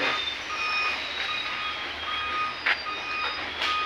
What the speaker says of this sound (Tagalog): dumating na mga truck